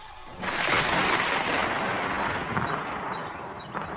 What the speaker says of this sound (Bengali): হঠাৎ একটা ভয়ঙ্কর বাজ পড়ার শব্দে ঘুম ভাঙল।